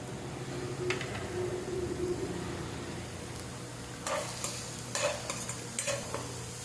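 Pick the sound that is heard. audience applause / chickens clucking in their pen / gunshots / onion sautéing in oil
onion sautéing in oil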